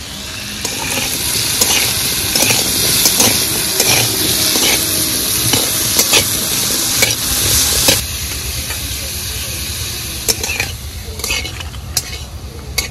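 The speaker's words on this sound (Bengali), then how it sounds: "আলু ভাজা হয়ে গেছে, এবার তুলে নেব।" Potato pieces seasoned with salt and turmeric fry in hot oil in a pan, a loud steady sizzle running throughout with repeated scraping and clinking of a spatula stirring close by.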